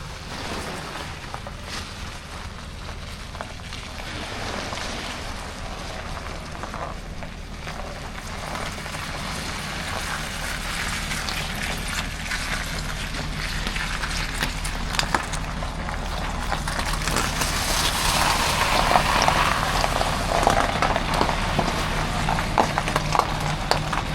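An old Hangkai 6 hp outboard motor runs steadily on a small boat on high water, a constant noisy drone with water splashing that grows slightly louder toward the end.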